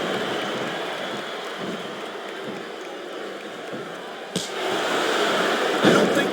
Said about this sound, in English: It sounds like this capacity crowd has something on their minds, Taz.